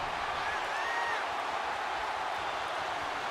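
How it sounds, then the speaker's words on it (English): A crowd cheering in a wrestling video game, a steady loud roar of massed voices and applause that holds at one level throughout. "the crowd is going absolutely crazy right now"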